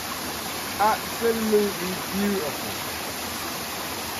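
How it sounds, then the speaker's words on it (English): A waterfall beside a Blue Mountain coffee plantation gives a steady, broad rushing wash throughout, with a voice speaking briefly over it. "That's a really nice waterfall as well."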